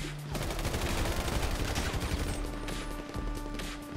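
Gunfire in Grand Theft Auto V, a dense rapid fusillade of overlapping shots sustained for several seconds, loud and close, with no talk over it.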